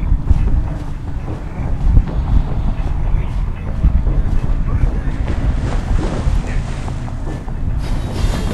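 A boat out on open water, heavily buffeted by strong wind that roars and crackles across the microphone, with a loud, continuous rumbling churn and voices now and then.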